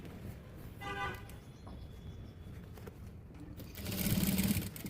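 A sewing machine stitches a small single-zip handbag, its rapid whirring runs starting and stopping close by, with a longer louder burst at the end.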